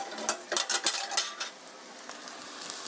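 Spaghetti with shiitake mushrooms being stirred in a pan, a burst of clattering utensil scrapes and clicks in the first second and a half, then a soft low sizzle with occasional light taps, no voices.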